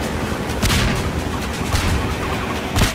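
A mine explodes in Half-Life 2 with a loud, close blast and a booming low rumble, followed by further gunfire-like bursts and another heavy hit near the end, with no talking.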